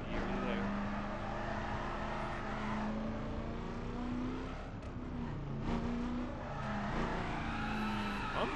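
Racing game car drifting through The Crew, a steady engine drone with gear-shift pitch changes and tire noise running throughout, with occasional skids and a voice talking over it.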